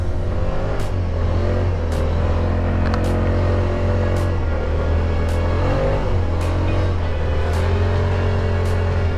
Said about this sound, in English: if you want to go into more like intense drifts, then you kind of want to feather the throttle